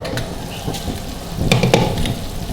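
Minced beef sizzling and frying in a pan over low heat, a steady close crackle with stirring scrapes that grow busier toward the end.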